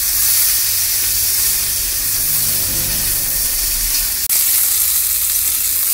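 Potatoes sizzle in a kadai on the stove, a dense, loud frying hiss running steadily throughout, with one brief sharp click near the end and no talking.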